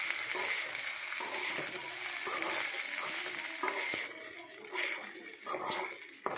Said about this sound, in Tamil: இப்போ நல்லா மிக்ஸ் பண்ணி விட்டுக்கலாம்.